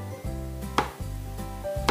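A knife cuts ginger into thin slices on a board, a few sharp, sparse strokes over a steady low background hum, with no voices.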